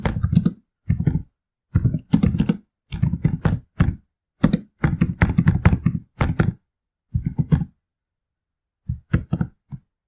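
Bursts of typing on a computer keyboard, close and crisp, with clusters of quick key clicks separated by short pauses, no talking.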